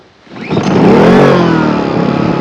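An inverter generator engine starts up, its pull-start catching and revving up over about half a second before settling into a loud, steady running hum close by, with no talking.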